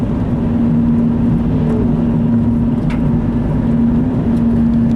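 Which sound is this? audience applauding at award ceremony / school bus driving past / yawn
school bus driving past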